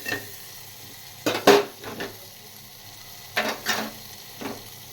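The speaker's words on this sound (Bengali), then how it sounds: "আর এই দেখো রসুন সঙ্গে, এটাকে ভালো করে মিশিয়ে নেব।" Garlic, onion and vegetables frying in a pan while being stirred, with soft background sizzle broken by several sharp scrapes and clinks of a utensil against the pan.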